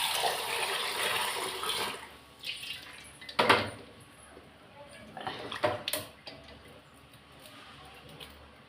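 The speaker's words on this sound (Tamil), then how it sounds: "தண்ணி கீழே ஊற்றிட்டு வரேன்" Hot water poured off a pan of boiled eggs into a sink, a splashing rush in bursts with a couple of sharp metallic clanks of the pan, fairly quiet and interleaved with talking.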